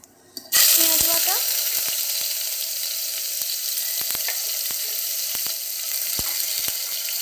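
Onion paste dropped into hot oil, bursting into a loud, close, steady sizzle that holds throughout, with occasional clicks of a utensil against the pan.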